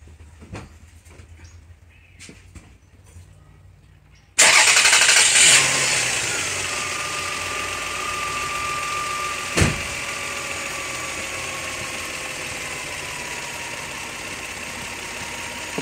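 A car engine with a coil fault and misfire codes P0300 and P0352 cranks and catches with a loud start, then settles into a rough idle with one sharp pop partway through, near and alone.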